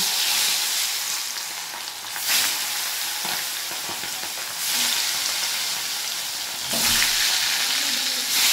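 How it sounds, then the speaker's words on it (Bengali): Fish frying in hot oil in a wok, a steady, loud, close sizzle that surges louder at a few moments, with no talking. "কড়াই তেল দিয়ে দিয়েছি, তেলটাও গরম হয়ে গেছে। এবার আমি মাছগুলো ছেড়ে দিচ্ছি।"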